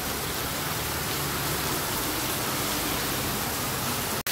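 Heavy monsoon rain pours down in front of a house in Karjat, a dense, steady roar of broadband hiss that holds at full strength throughout and cuts off abruptly at the very end.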